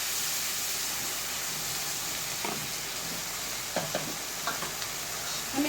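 About two spoons of chilli powder masala cooked with a little water in a pan for katla fish kaliya, with a continuous soft sizzle and occasional faint scrapes and clinks near the end, no talking.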